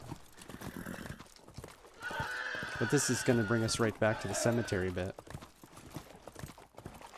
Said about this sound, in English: I don't have a horse stamina bar or anything, so he keeps sounding like he's going to have a coronary